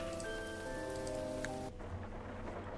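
Steady rain patters on surfaces in a video game, a constant soft hiss with sustained musical tones running over it for the first half before they cut out.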